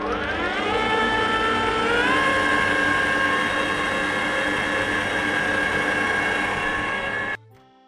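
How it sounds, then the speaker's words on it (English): An electric whisk mixes vegan pancake batter with a loud, steady motor whine that climbs in pitch early on, holds for several seconds, then cuts off abruptly. "I'm just going to whisk that up first."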